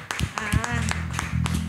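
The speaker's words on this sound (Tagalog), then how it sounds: "Bigyan nga natin ng malakas sa palakpak ang Panginoon." A church congregation claps loudly at a Sunday service, a dense run of rapid, overlapping hand claps that continues without a break under the voices of the crowd.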